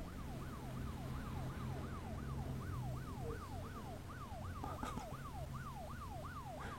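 A fire engine siren in the Arma 3 Altis Life game wails in a fast, regular up-and-down sweep, fairly faint and distant over a low engine rumble.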